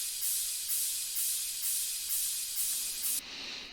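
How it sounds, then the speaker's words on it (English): Ride cymbal loop for a progressive house track, a steady bright shimmer with evenly spaced hits repeating about twice a second, ending abruptly on a quieter tail. "Then we have this ride loop."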